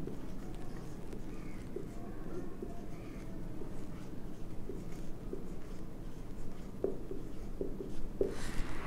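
Continuous soft scratching of a pen writing on paper runs steadily through an accounting lesson, with a few brief louder strokes near the end and no clear speech.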